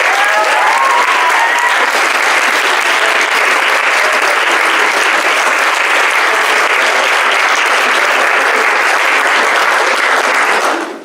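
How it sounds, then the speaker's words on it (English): An audience at a school Build Day closing ceremony applauds loudly and steadily, a dense sustained clapping from a crowd lasting about eleven seconds before tapering off at the end. "You all deserve a huge round of applause."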